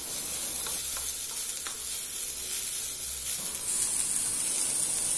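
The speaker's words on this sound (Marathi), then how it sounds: "आणि हे सगळं आपण फोडणीबरोबर परत मिसळून घेतो" Peeled, finely chopped carrots being stirred into a hot spice tempering in a pan, a loud continuous sizzle and hiss with scraping stir sounds, then a sharper steamy hiss near the end, no talking.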